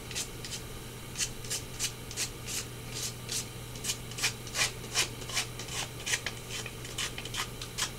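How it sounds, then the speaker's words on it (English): Rhythmic rasping strokes of medium-grit sandpaper rubbing along wood edges, steady back-and-forth scrubbing at close range over a low constant hum. "just carefully sand the edges to give it a little bit of a distressed look"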